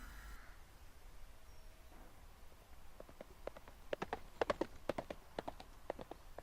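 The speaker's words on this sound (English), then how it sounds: "we can hear some horses coming by" Horses passing by in the Rhiannon video game, a faint scatter of hoof clip-clops building into an irregular cluster of taps over a quiet background.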